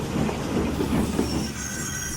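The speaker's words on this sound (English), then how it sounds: "Douglas puffed into the yard with Toad," A steam engine hauls a goods train into a rail yard: steady rolling wagon rumble and wheel noise with some squealing and clatter, moderately loud and continuous, no voices.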